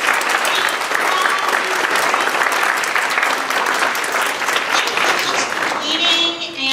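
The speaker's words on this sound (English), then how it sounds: "So I'm going to ask them to give you a big round of applause and thank you for your time." Students give a sustained round of applause at an author visit, dense even clapping that fills the room throughout and tapers slightly at the end.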